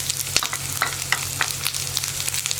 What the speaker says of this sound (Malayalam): നമ്മുടെ വെളുത്തുള്ളിയും സവോളയും എണ്ണയിലേക്ക് ചേർത്തിട്ടുണ്ട്.